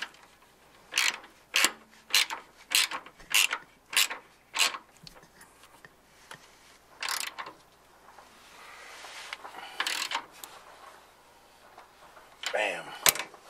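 A socket ratchet clicks in quick, repeated bursts, tightening a ground cable bolt on a Fox Body Mustang, followed by a few slower clicks and light handling noise, close and fairly quiet with no talking.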